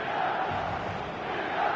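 Stadium crowd on match day in eFootball 2026, a steady, diffuse roar of massed fans cheering and chanting, constant in level for a brief moment.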